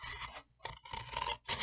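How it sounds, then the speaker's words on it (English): Scissors cut around a cup with short, raspy scraping snips in three bursts separated by brief pauses, close and alone. "make a pinch in your cup and then cut into it with your scissors and then just keep cutting around"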